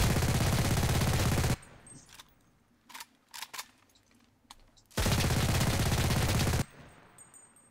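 An AVS-36 automatic rifle fires in the video game Enlisted: two loud, sustained bursts of rapid automatic fire, each about a second and a half long, separated by a quieter gap of faint mechanical clicks and clatter.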